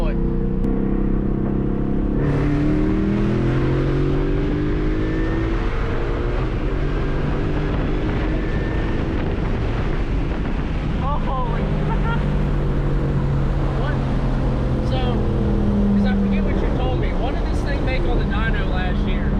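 A modified car engine with a lowered stance and roughly 650 wheel horsepower revs hard through an acceleration pull, loud and continuous, its pitch sweeping upward through several rising gears under a steady roar, with people talking over it.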